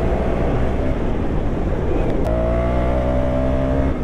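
A 2023 KTM Duke 200 motorcycle revs hard under full throttle in Dehradun, a loud continuous engine roar with wind rush that steps up into a higher rising harmonic drone partway through.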